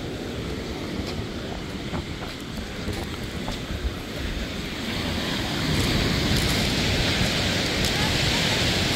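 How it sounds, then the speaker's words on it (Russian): Waves from a lightly stormy sea roll and crash onto a beach at Arkhipo-Osipovka, with wind buffeting the microphone. The roar is continuous and loud and swells further near the end. "На море шторм."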